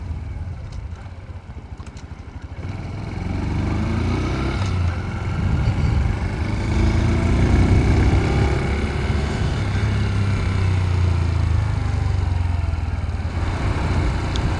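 A Honda Super Cub C125 motorcycle is ridden on the road, its small engine droning steadily with wind rumble, the note rising as it gets under way and then holding an even cruising hum throughout.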